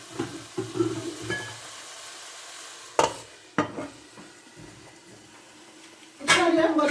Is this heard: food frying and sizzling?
yes